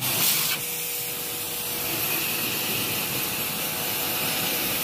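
A power spray pressure washer runs steadily as a loud, continuous broadband hiss and motor drone, with a brief louder burst at the start and no talking.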